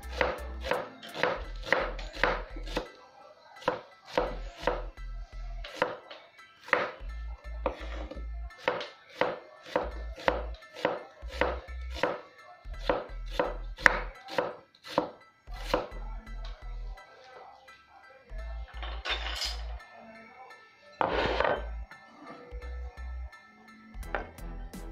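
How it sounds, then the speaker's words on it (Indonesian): An onion is chopped with a knife on a board while preparing a fish head curry, sharp rhythmic knife strikes in quick bursts separated by short pauses, close and clear with no talking. "pertama sekali kita nak potong bawang untuk tumisan"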